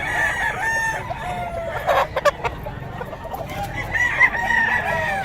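Roosters and hens of a Taguig-bred Sweater line cluck and crow in a steady, busy chorus, with a few louder crows standing out partway through and near the end.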